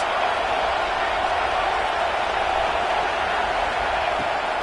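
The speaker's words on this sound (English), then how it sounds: "Listen to this crowd just shaking the girders of this place, trying to help their defense." Stadium crowd at an LSU college football game, Stanford at LSU, roaring to push their defense: a dense, steady wall of cheering voices held at high level across the whole stretch, with no single voice standing out.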